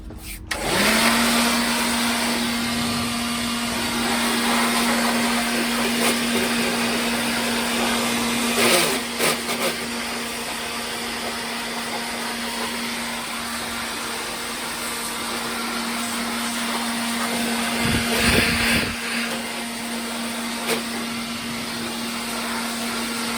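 Compressed air or a blower clears dust out of a pair of three-year-old MPP Solar 48V PIP inverters, a loud steady rushing roar with a constant hum, running continuously with a few brief surges and no talk.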